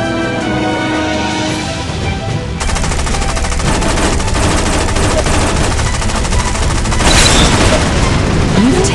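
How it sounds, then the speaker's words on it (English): Aircraft machine guns firing in the air-combat game War Wings, a loud continuous rattling burst that carries through almost the whole stretch, with engine drone beneath and the firing intensifying near the end. "Taking heavy fire."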